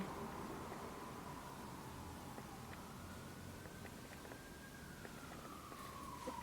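Distant ambulance sirens wail slowly, rising and falling over a steady wash of background noise, with no voices.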